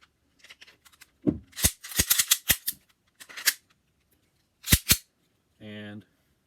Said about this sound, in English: this thing's shooting hard